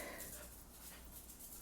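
A pet dog whimpers and pants faintly and close by, with soft, uneven breathy sounds over a low room hiss.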